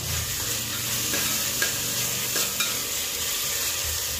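Chopped tomatoes with ginger-garlic paste and chili sautéing in a pan, a steady broad sizzle with occasional scraping stirs of a spatula, close and continuous with no voices.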